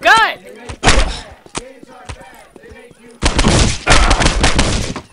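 Gunfire in the PC game Postal 2: sharp, loud shots and bursts crack out amid game sounds and shouted voices, with a dense stretch of rapid firing near the end.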